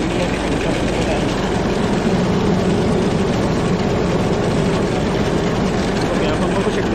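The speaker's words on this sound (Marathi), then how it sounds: "रिव्हर्स ट्रॅक्टरचं ब्लोअर चालू केलेला आहे" A tractor-mounted sprayer's blower runs in reverse with a steady, loud low engine drone and broadband air roar throughout, continuous and close, with no pauses.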